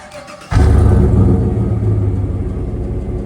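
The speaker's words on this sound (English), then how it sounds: "I'll start it up so you guys can hear it." A 2016 Chevrolet Silverado 1500 SCA Apex LTZ Z71 pickup engine cranks and roars to life, settling into a loud, deep, rumbling idle close by.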